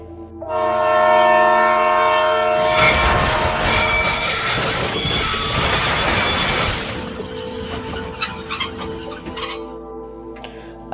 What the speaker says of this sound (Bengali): হুইসেল বাজিয়ে ট্রেন প্রবেশ করলো